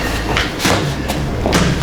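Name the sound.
kickboxing strike landing on pad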